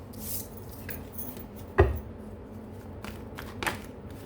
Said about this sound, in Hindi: एक मिनट, कार्ड गिर गए।